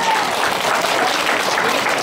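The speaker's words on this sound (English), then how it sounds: "So let's give them a good round of applause." A school audience at a Christmas event applauds its teachers, dense, continuous clapping from a crowd, close and loud throughout.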